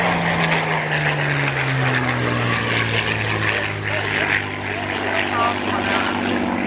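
A Photo Reconnaissance Spitfire Mk XI roars past in an air show display at RAF Cosford, its piston engine drone swelling and shifting pitch, loud and steady with someone talking over it.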